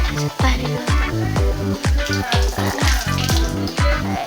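Water pours from a clay pot in a home kitchen and spills down, a close, loud gush broken into regular glugging pulses for several seconds.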